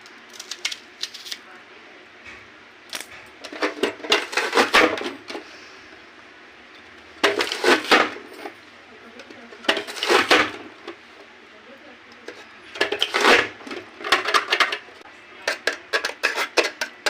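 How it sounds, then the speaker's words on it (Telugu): A knife chops onions and tomatoes on a board in bursts of quick, crisp taps, pausing between runs of cutting, close and moderately loud with no one talking. "ఉల్లిగడ్డలు ఇట్లా 2 కట్ చేసుకొని దీంతో కట్ చేస్తున్నాం"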